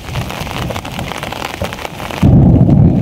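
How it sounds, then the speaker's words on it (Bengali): Heavy rain patters steadily, then a deep roll of thunder swells in near the end and holds loud, low and rumbling under the downpour. "আকাশে ডাক দিতেছে।"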